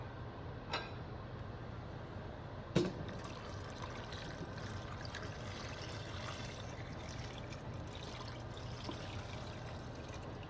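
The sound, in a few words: water poured into a pot for mutton paya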